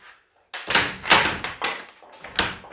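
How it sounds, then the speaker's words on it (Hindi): A door is pushed shut with several close, heavy thuds and rattles in quick succession, loud against a faint steady tone, with no talk. "ये दरवाज़ा कर देते हैं बंद।"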